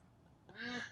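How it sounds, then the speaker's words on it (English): Ducks swarming around a tent give a single short, nasal quack-like honk up close, standing out against a quiet background. "but they're quacking."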